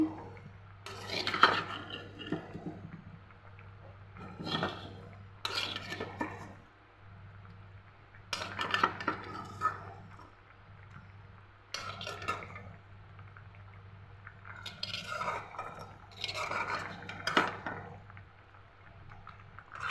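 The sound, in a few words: fried taki fish added to pot with arum corms, stirred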